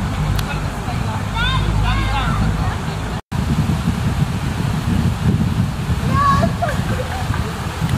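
Gusty wind buffets the microphone in a Saint Petersburg park in golden autumn, with leaves falling; a steady low roar runs throughout, with a brief dropout midway and faint chirping sounds on top.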